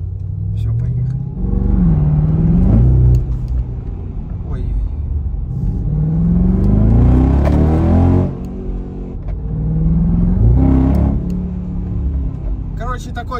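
A Tesla car pulls away and accelerates, giving a low rumble with rising whining tones in surges, while people talk over it.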